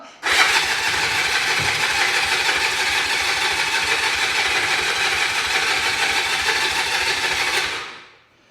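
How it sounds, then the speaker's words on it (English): A free, long-neglected ATV with cobwebbed exhaust pipes cranks continuously for about eight seconds, the starter grinding loudly and evenly without the engine catching, then winding down. "It's turning over, but it's not starting."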